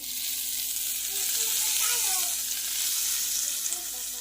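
A hot tadka with asafoetida is poured over chutney and sizzles loudly in a steady, hissing crackle that lasts the whole stretch, with no voices over it.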